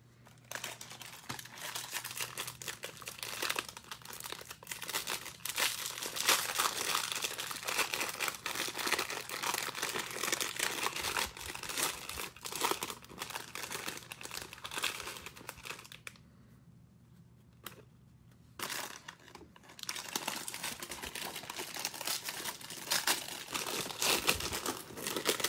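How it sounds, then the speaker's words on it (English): A Bowman Draft baseball card pack wrapper torn and crinkled open up close, with a long run of dense crackling foil rustle, a short quiet pause, then more crinkling. "Get both sides of this pack open."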